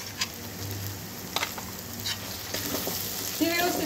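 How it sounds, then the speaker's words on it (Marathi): Ginger-garlic paste and cashew paste gravy fry in oil for paneer korma with a continuous close sizzle. Occasional scrapes and clicks of stirring sound through it, and no one speaks. "ती व्यवस्थित फ्राय करू तेल सुटेपर्यंत"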